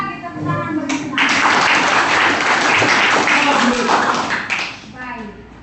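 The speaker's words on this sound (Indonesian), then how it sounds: "Mari lagi tepuk tangan bersama" Ninth-grade students in a junior high school classroom applaud together, a steady wash of many hands clapping for several seconds, with a voice heard briefly before and after.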